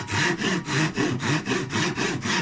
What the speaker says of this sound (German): Einfach die Säge sägen lassen mit ganz wenig Druck arbeiten oder gar keinen Druck.